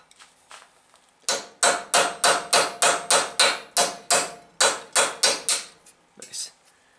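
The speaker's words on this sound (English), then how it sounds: "I can start to feel the edge of the chisel are cutting" A hammer strikes a cape chisel during blacksmithing, about fifteen sharp, ringing metallic blows in a steady, even rhythm, loud and close, with a brief pause near the end.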